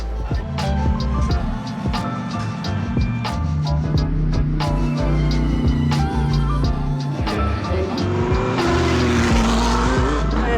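TCR touring race cars brake hard into a chicane at the Paul Ricard circuit, several cars roaring past close by in quick succession with engine revs, downshifts and tire squeal, loud and continuous.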